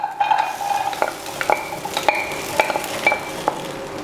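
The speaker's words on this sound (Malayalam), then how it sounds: "ഇനി ആ പാനിലോട്ട് നമുക്ക് എടുത്തു വെച്ചിരിക്കുന്ന ചക്ക ഇട്ട് കൊടുക്കാം." Jackfruit pieces tipped into a pan and stirred, with a steady close sizzle broken by repeated scraping strokes and light clinks of a utensil against the pan; no one speaks.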